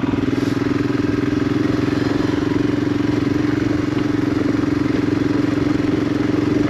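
A Royal Enfield Himalayan motorcycle climbs a mountain trail near Highlands, North Carolina, its single-cylinder engine thrumming in a steady, even drone at close range with no letup.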